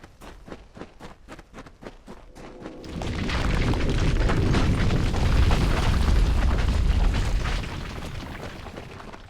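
A fire spell explodes in the video game Kingdoms of Amalur, a deep rumbling blast that swells and holds for several seconds after a run of rhythmic thumps, then fades.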